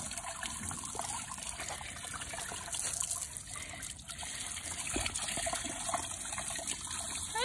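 Water runs and trickles while a muddy dog is bathed, a faint steady flow with small splashes and drips, no voices over it.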